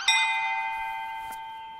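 A single bright bell strike rings out close and clear, its sustained metallic tone decaying slowly over about two seconds, with no speech.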